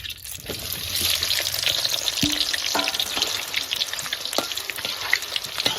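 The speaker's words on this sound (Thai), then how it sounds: "น้ำมันเดือดแล้วเราใส่ลูกชิ้นลงไปนะครับ" Meatballs deep-frying in boiling oil give off a steady, close sizzling crackle with scattered sharper pops and light stirring clinks, continuous throughout.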